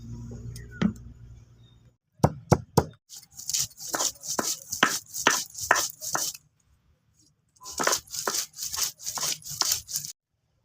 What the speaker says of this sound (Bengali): এগুলোকে আমি বেটে নেব।